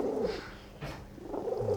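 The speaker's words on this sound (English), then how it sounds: "She's still purring throughout the whole thing." A cat at a veterinary clinic purrs steadily in close, rhythmic rumbling bursts, loud and near, with no talking over it.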